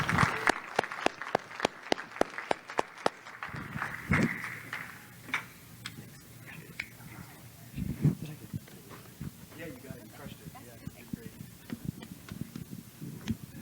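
An audience at a bitcoin miners' summit welcomes speakers to the stage with a run of regular, crisp claps that soon give way to talking, with scattered claps and knocks beneath the voices.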